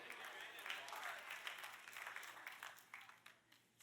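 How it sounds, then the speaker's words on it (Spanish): Faint church audience applause during a Spanish-language sermon, scattered clapping that rises and falls and thins toward the end, with some voice mixed in. "Ahora todos van a aplaudir por este"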